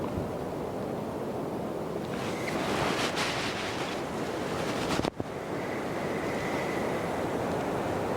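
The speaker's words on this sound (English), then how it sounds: "It's probably hard for you guys to tell, but it is pretty dang windy." Strong wind roars across the microphone at an outdoor archery range, a steady broadband rush with gusts swelling midway and a brief thump near the end.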